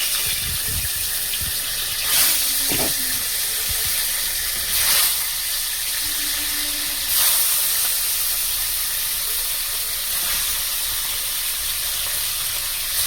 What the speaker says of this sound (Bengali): এবার মাছটা ভেজে নেব ভালো করে